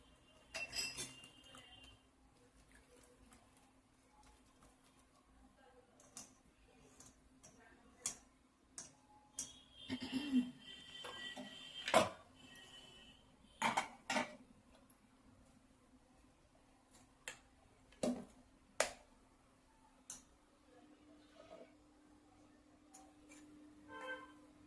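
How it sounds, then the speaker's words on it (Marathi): Metal spoon stirring warm food in a steel pot, heard as scattered sharp clinks and taps, some clustered around the middle, over a faint steady hum with occasional soft speech. "आता मिक्स करून घेऊ असं छानपैकी"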